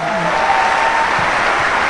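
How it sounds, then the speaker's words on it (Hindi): A crowd at an Amway business event gives a hearty round of applause, a loud, steady, dense clapping that holds level throughout, with a faint voice briefly under it. "एक बार ज़बरदस्त तालियां बजाएंगे एमवे कॉर्पोरेशन के लिए।"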